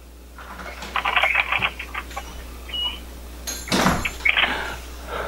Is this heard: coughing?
no